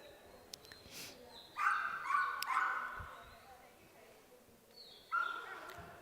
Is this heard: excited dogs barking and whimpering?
yes